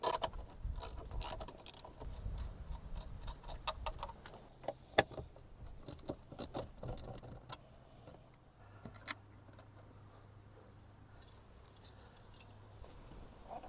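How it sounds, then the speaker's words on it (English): A 13mm socket ratchet loosens the front seat bolts of a Suzuki Sierra SJ70, giving faint, irregular clicking and ticking against a quiet background. "Start by removing the two front seat bolts with that 13mm socket."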